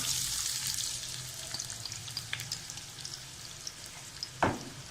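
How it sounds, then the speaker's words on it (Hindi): Onions sizzle and crackle steadily in hot oil, with occasional stirring scrapes and a soft clunk near the end. "दो से 3 मिनट तक ये हमारा प्याज फ्राई हो जाएगा"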